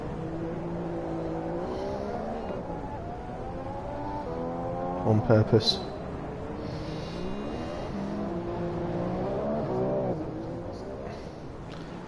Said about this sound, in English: It's just like a lawnmower, lower tone engine noise you get.